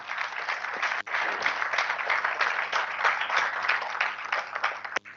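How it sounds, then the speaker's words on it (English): Dense, sustained applause from a large crowd at a student chapter launch event at Poornima University in Jaipur, India, steady throughout with a couple of brief dips, fairly loud and without talk over it. "I want all of you to give a big round of applause to Dr. Padhi"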